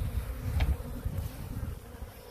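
Honey bees buzz around an open hive full of comb during a rehoming, a close, steady hum with a louder pass as one bee flies near, no talk.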